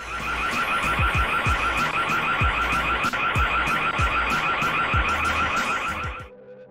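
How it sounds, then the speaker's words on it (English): A car alarm wails continuously, loud and nearby, with a rapid warbling siren pattern that cuts out abruptly near the end. "The car alarm goes off and they run as fast as they can."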